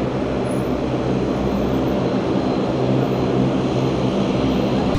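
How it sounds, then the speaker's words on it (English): Bell Boeing V-22 Osprey tiltrotor arriving at an air show, a loud sustained rotor and engine roar with a deep pulsing low rumble, steady throughout. "This aircraft was developed by Bell Boeing to replace the CH-46 helicopter as the Marine Corps' medium lift assault support."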